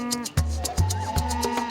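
Cattle low repeatedly during a river crossing in the Amazon, three deep moos rising one after another at close range over steady background noise.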